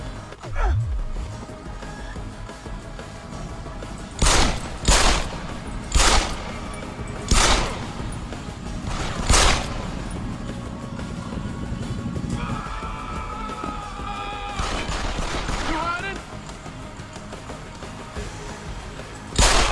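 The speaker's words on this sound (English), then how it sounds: "Have a grenade!" Deus Ex game combat at a manufacturing plant, with a run of sharp, loud gunshots in quick succession, a grenade blast and rumbling explosions, and a low, steady background drone underneath.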